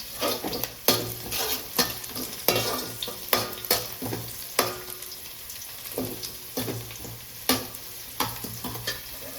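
Onions and green chillies fry in a pan with steady sizzling, punctuated by repeated sharp scrapes and clacks of stirring at an irregular rhythm, close and fairly loud, with no voices.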